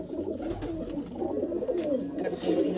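Several pigeons coo in a steady low murmur close by, their soft overlapping calls filling the background throughout.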